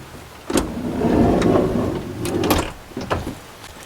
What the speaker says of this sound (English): go ahead and completely open up the sliding door to the full open position